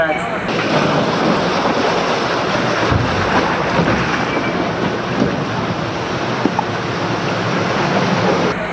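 A theme park ride boat pushes through water, with a continuous loud rushing and splashing roar that stays dense and steady throughout.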